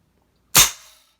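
One sharp, loud report from an AEA Terminator Gen 2 .357 air rifle, a sudden crack that fades quickly, with silence before it.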